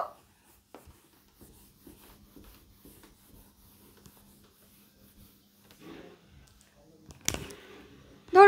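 A teacher writing by hand during a Sanskrit lesson, faint soft scratching strokes in short bursts against a quiet room, ending with a louder knock and rustle.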